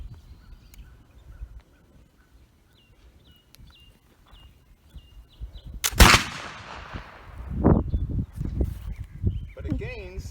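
A rifle fires once at a target, a single sharp, loud report followed by a short echoing tail, with quieter rustling, handling noise and low voices nearby before and after.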